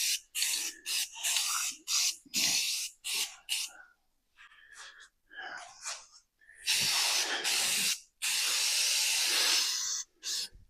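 Short bursts of an aerosol spray can laying a light coat on a tonneau cover, loud and close, with several brief hisses at first and then two longer sustained sprays.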